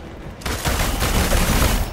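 Sustained gunfire rattles through a Marvel's Avengers battle, a loud, dense volley that starts quietly then swells into continuous rapid shots for nearly two seconds.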